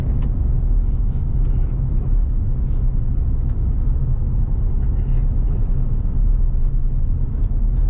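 A Smart car driving along a road between Page Springs Campground and Lily Lake in Oregon, its steady low engine and road rumble holding constant and close throughout.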